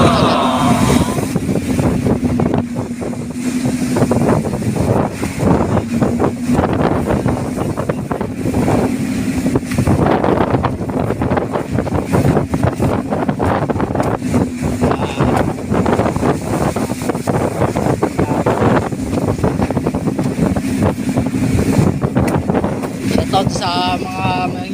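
A small fishing boat pushes through rough seas in strong wind on the West Philippine Sea. Constant buffeting wind noise and a low engine drone run throughout, with a voice speaking now and then.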